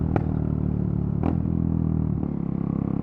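Loud motorcycle exhaust running close by, a deep steady engine drone with a few sharp blips and rattles breaking through it.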